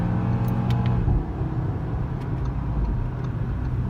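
A 2018 Audi RS3 picks up speed to pass a truck on the road, its engine and road roar heard from inside the cabin, a steady broad rumble that eases slightly after the first second.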